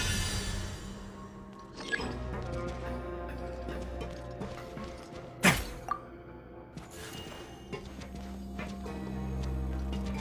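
A mechanism in Genshin Impact activates with steady ticking and clicking, a sharp thwack near the middle, then a low rumble swelling toward the end over a quiet game background.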